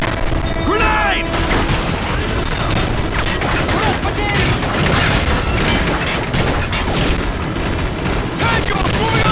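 A dense, loud video-game battle fills the scene with continuous gunfire and booming blasts, including a grenade explosion, as shouted voices cut in briefly.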